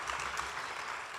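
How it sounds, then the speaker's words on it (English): Audience at a Black Maternal Health Caucus stakeholder summit applauding, a brief, steady wash of clapping from many hands in a hall at moderate volume, alone without speech. "Y'all should be clapping for that now."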